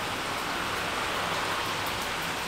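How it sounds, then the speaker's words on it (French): Rain falling after a heat wave, a steady dense hiss of drops that stays even and fairly loud for the whole stretch, with no voices. "ça y est, il pleut."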